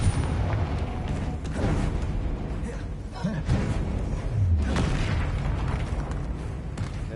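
A Confringo fire spell bursts in Hogwarts Legacy, a dense booming blast over a continuous loud rumble of game effects and music.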